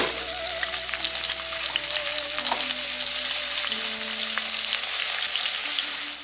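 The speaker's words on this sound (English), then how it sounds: "While your chicken is frying away" Chicken mince fries in oil in a pan, a dense, steady close-up sizzle with fine crackling pops running unbroken throughout, while soft music plays underneath.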